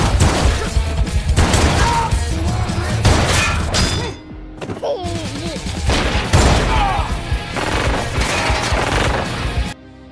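Gunfire in a film fight scene: dense bursts of loud shots and impacts come in rapid volleys, with a brief lull midway, then more heavy firing and crashing until an abrupt stop.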